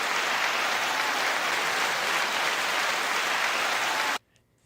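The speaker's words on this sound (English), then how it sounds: "Nice second applause." Dense, even crowd applause rolls at full strength for about four seconds, then cuts off abruptly into near silence.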